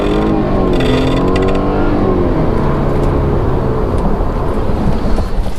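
Inside a BMW F30 under hard acceleration, a loud steady engine drone and road rumble fill the cabin, with a faint rattling, loose-sounding noise riding over it and no talk.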